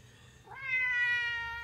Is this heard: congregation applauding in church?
no